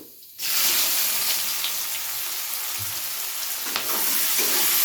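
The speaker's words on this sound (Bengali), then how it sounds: "পেঁয়াজটাকে কিন্তু আমাদের একটু সময় নিয়ে ভেজে নিতে হবে, বাদামি কালার করে।" Chopped onion dropped into hot oil bursts into a loud, steady sizzle that carries on close up, with faint stirring scrapes and no talking.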